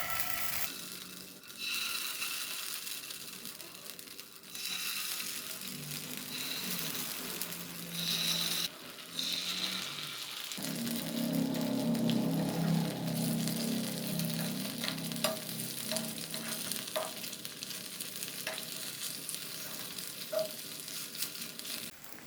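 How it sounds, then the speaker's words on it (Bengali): Pointed gourd fritters frying in a pan, a steady soft sizzle and bubbling of oil close by with occasional stirring clinks, quiet and continuous throughout. "বাকি যেগুলো রয়েছে প্রথমে মিডিয়াম ফ্লেমে ভাজবো, তারপর 2 থেকে 3 মিনিট হাই ফ্লেমে ভেজে নেব।"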